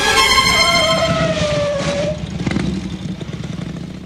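A motorcycle engine runs with a loud, steady whine, then cuts off about halfway through, leaving a low rumble and scattered clatter behind it.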